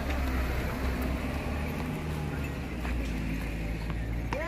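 Horses and a pony led by a horseman, hooves clip-clopping steadily in the foreground over a loud, constant outdoor rumble, with people talking nearby.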